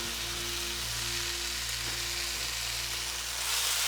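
Kimchi with its juice fries in a pan for kimchi fried rice, producing a loud, continuous, even sizzle with a low steady hum beneath it and no voices.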